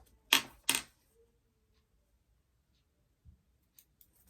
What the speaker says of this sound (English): I need sharper scissors.